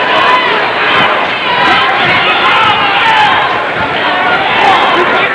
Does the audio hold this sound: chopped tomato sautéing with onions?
no